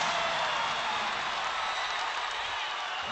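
A basketball arena crowd at a college game between NMSU and UMN roars and applauds in a dense, continuous wash of cheering that holds steady and loud for the whole stretch.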